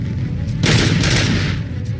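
Gunfire from the Auto 9 pistol in the video game RoboCop: Rogue City, a loud burst of rapid shots in the middle of the clip over a steady rumbling game background.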